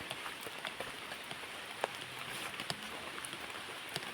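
Steady rain falls on a surface outdoors during a mushroom-foraging trip, a dense even patter with occasional louder drops and a faint low rumble beneath, no voices.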